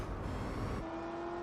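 McLaren car engine in Gran Turismo 4, a steady droning motor hum that shifts to a higher held tone partway through, fairly close and alone without talk.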